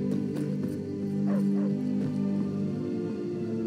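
In the Skyrim video game a dog barks, yips and whimpers in short repeated bursts over a steady droning game soundtrack, moderately loud and close.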